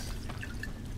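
A brief trickle of water pouring in The Last of Us game, faint and soft under a low ambient hum, lasting only a moment.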